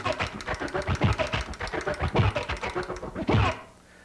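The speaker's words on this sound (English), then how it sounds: "It's like a record going frontwards and a record going backwards at the same time and turning on and off and on and off." Vinyl record scratched back and forth on a DJ turntable in a transformer pattern, with rapid on-off chopped bursts and sweeping pitch swoops, loud and close, then cutting off near the end.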